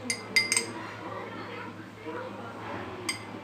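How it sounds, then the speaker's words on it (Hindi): Ice cubes dropped into a glass for a falooda dessert, heard as a few bright clinks near the start and another one later, over quiet kitchen background and soft talk. "ये मैं 3 क्यूब्स बर्फ़ की डालूँगी।"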